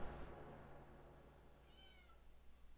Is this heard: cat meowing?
yes